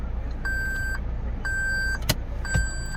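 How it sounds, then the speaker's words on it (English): A 2017 Toyota Land Cruiser Prado GX sounds three evenly spaced electronic beeps, each about half a second long, as 4WD low range engages, over a steady idling engine hum, with a couple of brief clicks near the end. "It's going to beep a few times."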